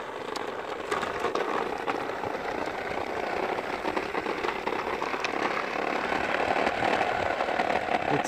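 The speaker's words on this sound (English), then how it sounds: "It's the mowing adventures of Finley here, right?" A lawn mower engine runs steadily in a yard on a Sunday morning, a constant, fairly close rough drone with faint rattling and no talk over it.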